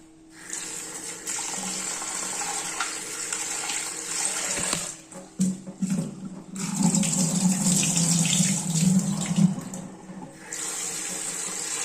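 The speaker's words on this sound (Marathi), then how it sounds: "आता आपण चांगला धुवून घेऊया" Tap water runs steadily as chopped potatoes are washed in a bowl, a continuous rushing splash that breaks off briefly mid-way with some sloshing and clatter, then resumes loud and close.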